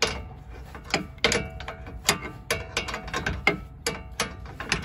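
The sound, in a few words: ratchet loosening a bolt on a Ford Explorer control arm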